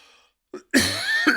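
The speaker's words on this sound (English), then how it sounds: "that's a terrible cough" A single person's cough, close and fairly loud: a short harsh burst followed by a rougher, longer one with a second catch near the end, recorded during a Yamaha SX900 keyboard demonstration.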